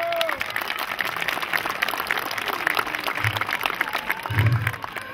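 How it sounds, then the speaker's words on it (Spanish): Crowd applause for a performer called Huesitos at a jaripeo in San Sebastián Progreso, Guerrero, steady dense clapping from a sizable crowd under an outdoor hum, with muffled low thumps near the end. "Den el aplauso para Huesitos, señores."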